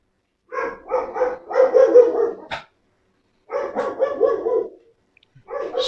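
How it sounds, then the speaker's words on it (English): Dogs bark in rapid clusters of yips and barks, two bursts separated by a silent pause, fairly close and loud, during a laptop DC jack repair. "we'll just have to work through the dogs barking."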